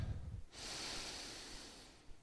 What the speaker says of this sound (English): And breathe in and out through your nose.